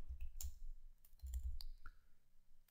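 Keyboard keys being struck while typing C code, a few scattered clicks and clacks over a low background rumble, close and fairly quiet, with no talking.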